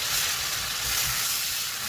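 Spices sizzle steadily as they are sautéed in a pan for an eggplant, potato and baila fish curry, a continuous close frying hiss with no talk.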